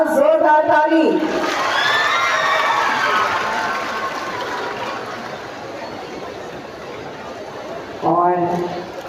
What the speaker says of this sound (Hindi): जोरदार ताली।